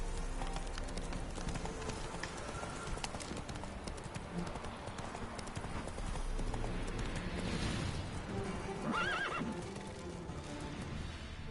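A horse neighs loudly and gallops with steady clip-clopping hooves in The Witcher 3 video game, set against a dense, continuous outdoor ambience.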